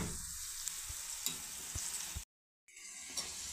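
Green chilies dropped into a hot pan with onion greens for a Khandeshi ridge gourd bharit, a steady oily sizzle with a few soft stirring knocks, cut by a brief moment of silence.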